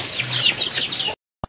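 Chickens cluck and chirp close by at a family birthday gathering, a steady scratchy chorus of short calls and flutter for about a second before falling silent, then one brief sound at the end.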